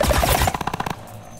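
A sneak shot is fired in Plants vs Zombies: Battle for Neighborville as a rapid burst of punchy shots. The bursts come in quick succession, loud at first, then a faster stuttering run that fades away within about a second.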